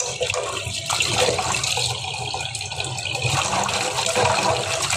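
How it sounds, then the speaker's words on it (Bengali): Tap water running steadily and splashing as vegetables are washed by hand in a kitchen, continuous close rushing with slight shifts as the produce moves under the stream. "ভালো করে ধুয়ে নিচ্ছি।"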